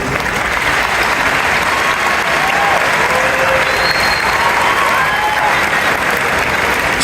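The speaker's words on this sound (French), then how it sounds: "Je voudrais qu'on applaudisse pour Philippe Simon" An audience in a hall gives steady, dense applause at an entrepreneurship event. The clapping holds even and loud throughout with no pauses, with a few faint whistles or calls riding above it.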